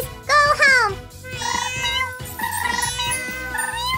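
Several kittens meowing in quick succession near a handmade mini cat house, close and loud with overlapping high-pitched calls and faint background music.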